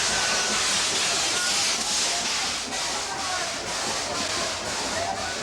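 A steam troop train pulls into a Paris station, a loud, continuous wash of hissing steam broken by regular chuffing pulses that slowly ease in strength.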